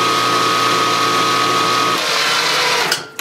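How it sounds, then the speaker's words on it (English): A machine-shop drill spins a center drill into a workpiece, a steady loud motor whine with a fixed tone that stops abruptly near the end, leaving brief clatter. "Taking spot drill it, or center drill it"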